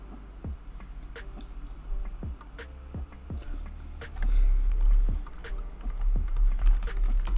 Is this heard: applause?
no